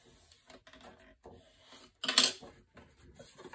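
Edges of a paper gift bag are burnished flat with one short, sharp scraping rub, preceded and followed by quiet, scattered paper-handling rustles and taps.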